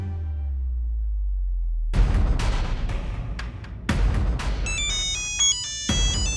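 A phone ringtone for an incoming call plays as a short melodic sequence of bright tones, following loud booming bursts.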